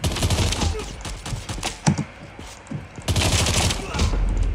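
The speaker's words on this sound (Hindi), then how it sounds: "पिस्तौल से लोग यहाँ पे मार रहे हैं हमें" Rapid pistol gunfire in the Call of Duty Mobile shooter game, a dense run of sharp, loud shots with a short lull before another burst of firing.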